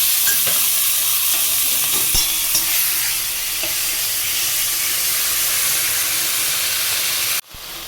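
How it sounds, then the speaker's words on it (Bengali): Cumin seeds with dried red and fresh green chillies tempering in hot oil as they are stirred: a steady, loud frying hiss with faint scrapes, cutting off abruptly just before the end. "তেলের মধ্যে জিরে, শুকনো লঙ্কা, কাঁচা লঙ্কা ফোড়ন দিয়ে সামান্য নাড়াচাড়া করে নেব।"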